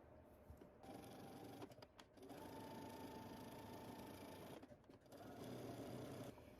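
Sewing machine stitching close to the fabric edge on a garment, running in long steady bursts with brief pauses between them, its motor humming evenly and fairly quietly throughout, with no voices.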